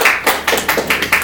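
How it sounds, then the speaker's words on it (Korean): Applause from a book-talk audience, a short burst of crowd clapping with rhythmic pulses, moderately loud and without talk. "박수 드리겠습니다."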